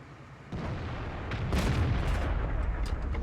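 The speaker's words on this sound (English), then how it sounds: "I'm just doing a few random shots" Tank cannon shots in a tank battle video game: a loud boom lands at about half a second, followed by further heavy blasts and rumbling gunfire with sharp cracks, all close and dense.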